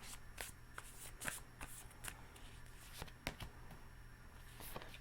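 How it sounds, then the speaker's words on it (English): Tarot cards are shuffled in quick, crisp riffling bursts, close by and soft, repeated irregularly over several seconds. "Last shuffle."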